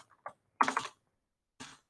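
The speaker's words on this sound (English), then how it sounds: "I'm going to type longleaf pine" Computer keyboard typing at a desk, a few separate short bursts of key clicks with pauses between, close and quiet, with no talk over them.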